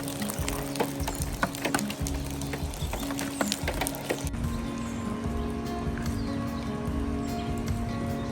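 Steady morning rain pattering on surfaces outdoors, a dense continuous patter with scattered louder drips, close and even throughout.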